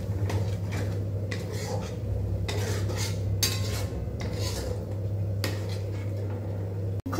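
A spoon scrapes and clinks against a pan as sour curd is stirred into pointed gourd curry, repeated close metallic strokes over a steady low hum.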